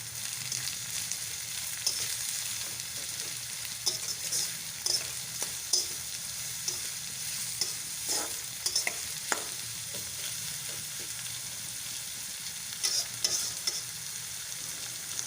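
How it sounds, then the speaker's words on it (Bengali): Onions sizzle steadily in oil with a little salt while a spatula stirs and scrapes the pan in scattered clicks, the frying hiss continuous throughout with no voices. "পেঁয়াজ ভাজার সময় সামান্য পরিমাণ লবণ দিয়ে দিলাম"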